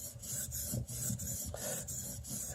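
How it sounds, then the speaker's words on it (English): A knife blade is rocked back and forth on a 1000 grit sharpening stone while modifying a Scandi grind, giving a close, steady rasping scrape in even strokes about three per second. "on this stone here with this rocking motion. This is the 1000 grit that I'm working with now."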